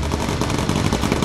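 Aircraft machine guns chatter in sustained rapid bursts during an air battle in the video game Bomber Crew, loud and dense for the whole stretch with no pauses.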